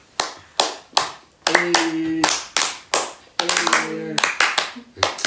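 Steady rhythmic hand clapping, several sharp claps about half a second apart, accompanies a sibling party game where someone is called up to dance; voices chant and talk over the beat between claps.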